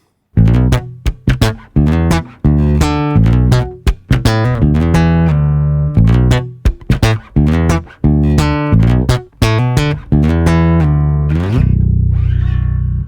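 An acoustic bass guitar played alone, with plucked notes in a steady rhythmic line, loud and close, ending on a sustained ringing note.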